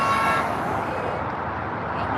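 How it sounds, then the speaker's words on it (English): Car horns honk and toot amid passing road traffic at a weekly street flag wave in Ridgefield, Washington, a steady mix of horns and engine noise close by, with no talk. "You hear all the horns honking?"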